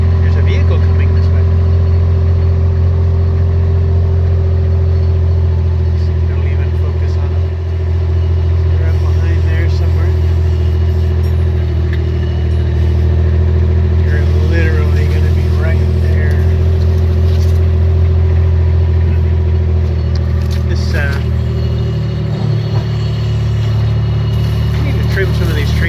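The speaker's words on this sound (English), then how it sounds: "there's a vehicle coming this way" A motor vehicle approaches outdoors over a steady low engine drone, growing slightly louder toward the end, with voices talking over it throughout.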